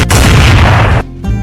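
A single loud, booming gunshot from a psychopath-thriller film, heavy and close, cutting off abruptly into a brief quieter tail.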